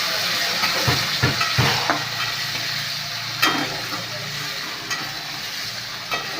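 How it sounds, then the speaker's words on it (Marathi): Tomatoes frying in a pan alongside garlic, a steady loud hiss and sizzle throughout with occasional scrapes and taps from stirring, close to the pan. "टॅमॅटो भाजतोय"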